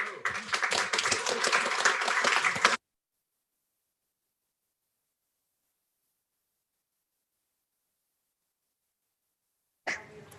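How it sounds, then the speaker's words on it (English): At a Docker London meetup, an audience applauds a speaker: a dense burst of clapping lasting under three seconds, then silence, with a faint restart at the very end. "Give Mark an applause."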